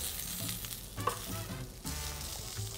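Chorizo sizzles and crackles steadily in its own oil over intense heat, with occasional stirring knocks in the pan.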